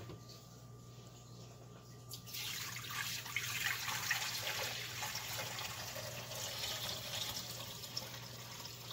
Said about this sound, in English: Our jars are loaded on top of the rack with hot water poured in around the jars up to 1/4 up the side of the jar.